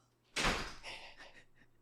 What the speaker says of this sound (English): Close the door, okay?